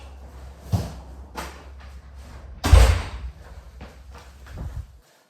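A front door slams shut at home during lockdown, one loud thud with a short rattle, followed and preceded by smaller knocks and handling sounds nearby.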